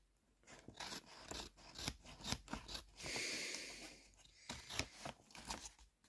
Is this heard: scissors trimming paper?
yes